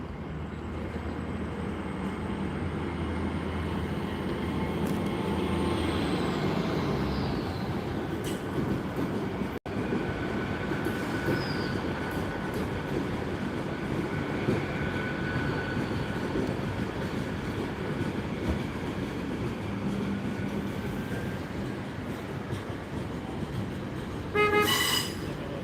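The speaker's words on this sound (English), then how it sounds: "There's a green light, so the class 800 needs to leave now, which it is." A Class 800 train pulls out of Gloucester station with a steady, rising rumble and rolling wheel noise, a high squeal early on, and a brief horn-like toot near the end.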